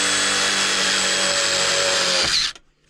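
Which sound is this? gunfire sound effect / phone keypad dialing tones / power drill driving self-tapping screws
power drill driving self-tapping screws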